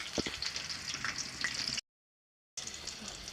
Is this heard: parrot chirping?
no